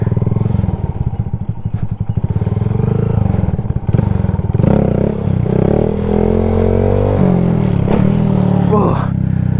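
Motorcycle engine roaring loud and close during a wheelie, revving with rhythmic pulsing and rising pitch, clattering bursts, and throttle swells throughout.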